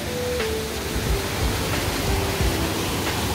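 Steady broadband rushing of a waterfall in a mossy valley, a continuous roar filling the scene with no pauses, fairly close and even in loudness.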